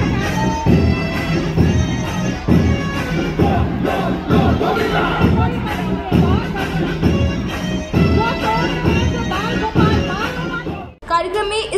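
A large crowd at a Dahi Handi festival cheers and shouts in rhythmic surges, dense and loud, continuing until an abrupt drop at the very end.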